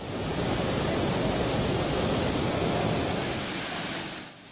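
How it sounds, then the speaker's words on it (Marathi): The female waterfall at Naldurg fort roars in a dense, unbroken foaming rush, loud and close, before easing slightly at the end. "नळदुर्ग किल्ल्यातल्या नर मादी धबधब्यापैकी हा मादी धबधबा"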